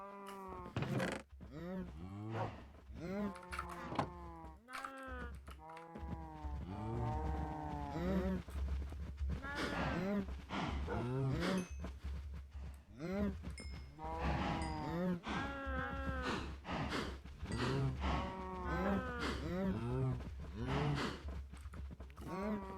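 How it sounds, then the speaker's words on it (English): Cattle in the Minecraft video game, a breeding herd, lowing in repeated drawn-out moos that overlap throughout, fairly close, with a steady low hum underneath. "cows should also be ready to go again"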